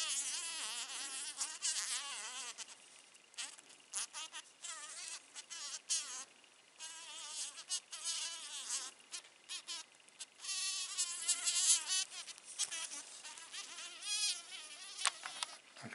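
A digger wasp (Sphex) buzzing close by, a high, wavering whine that rises and falls continuously and grows louder and more agitated in places, with no talk.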